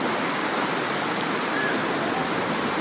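Sea waves at Mirabai Beach in Goa make a steady, even wash of surf, a continuous moderately loud hiss with no distinct breaks.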